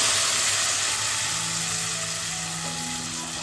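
Ground spice paste hits hot tempering for brinjal curry with a loud, broad, steady hiss that eases off slightly, alongside a faint tonal hum.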